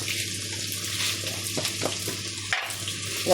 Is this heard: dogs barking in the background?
no